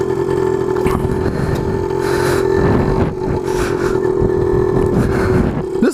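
A Suzuki-style DS100 small trail motorcycle ridden hard while leaned far over in a turn gives a loud, steady buzzing engine drone, with gritty scraping and clattering bursts over it and no voices.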